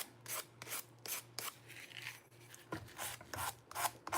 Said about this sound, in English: Let me just do a little sanding.